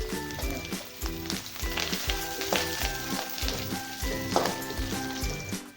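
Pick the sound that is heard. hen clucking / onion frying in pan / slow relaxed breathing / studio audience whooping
onion frying in pan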